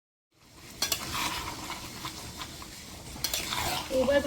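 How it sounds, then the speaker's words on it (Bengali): Meat being stirred into spiced masala for chicken biryani in a pot on a clay stove, with scraping strokes over a steady close sizzle and no talking. "দুবার ভালো করে নাড়িয়ে চাড়িয়ে নেবে"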